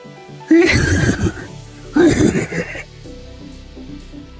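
A horse neighs twice, loud and close, each whinny lasting about a second with a pause between, over a low hum of background sound.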